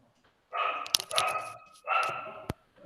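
A small dog barks in short sharp yaps during an online meeting, with two longer bursts separated by a pause and mixed with nearby sound.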